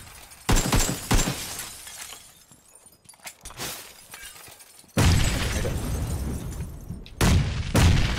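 Window glass shatters from gunfire in the battle game PUBG, with loud, close bursts of breaking glass and crashing debris, then a harsher sustained rush of noise later on.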